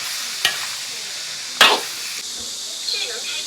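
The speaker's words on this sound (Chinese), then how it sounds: "翻炒均匀。" Lamb offal stir-fried in red chili oil in a wok: a soft continuous sizzle broken by a few sharp scraping tosses of the spatula, near and moderately loud, with no talk.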